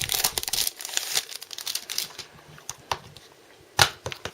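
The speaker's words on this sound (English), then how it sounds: "get this cellophane unwrapped and then we'll take a look at what's included on the inside" Cellophane wrapper crinkles and tears as it is peeled off a PS Vita game case, a close, busy run of crackling bursts with a sharp final rip near the end.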